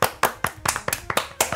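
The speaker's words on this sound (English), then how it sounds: "I think that calls for a round of applause" A few hands clap close by in a quick, uneven handful of sharp claps, a small round of applause among a couple of people.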